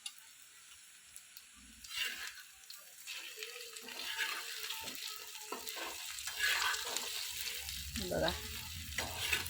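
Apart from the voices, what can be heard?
frying eggplant in a pan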